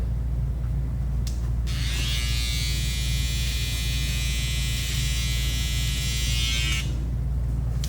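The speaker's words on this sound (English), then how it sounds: "He has sensitive skin, so I like to use the shaver." Electric shaver trimming a man's beard during a beard fade: the motor kicks in after a second and runs as a steady, close, bright buzz, cutting out near the end over a constant low background hum.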